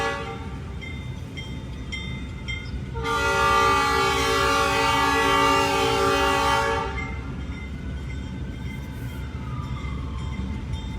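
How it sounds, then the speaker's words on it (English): A train horn sounds loudly for several seconds over the steady rumble of a train rolling along the tracks nearby. "Literally a train, which I don't know if I've ever seen a train on these tracks."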